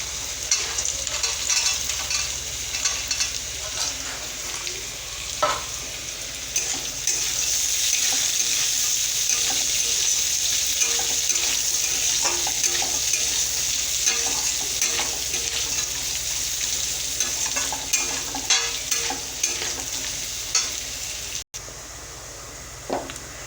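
Fried nuts being stirred into pulao in a pan give a steady, close sizzle of frying with scraping stir strokes throughout, then a brief sharp break near the end.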